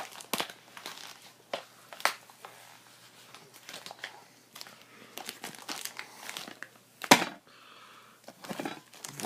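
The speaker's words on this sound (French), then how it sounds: "c'est pas le meilleur outil pour ouvrir les paquets" Cardboard package being clumsily pried open with an ill-suited tool, giving a run of close, irregular crinkles, scrapes and sharp snaps of packaging, with one louder crack near the end and no talking.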